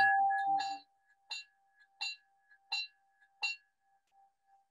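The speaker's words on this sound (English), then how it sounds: "here's the bell" A model railroad locomotive bell rings in a steady rhythm, five or six clear metallic dings spaced about a beat apart after an opening sustained tone, close and alone.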